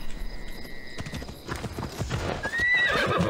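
A horse in the video game Assassin's Creed Odyssey clip-clops its hooves in steady steps, then lets out a loud whinny near the end. Game ambience sits underneath.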